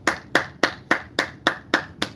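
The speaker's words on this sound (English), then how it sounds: "And I clap." Hands clap in a steady, even rhythm, eight or nine sharp close claps in just over two seconds, with nothing else behind them.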